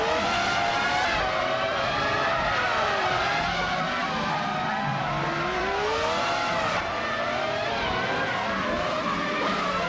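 Engines of 1998 Formula One cars in a racing video game scream at high revs, several cars overlapping as they battle closely, with shifting pitch from gear changes and passes, loud and continuous throughout with no talk.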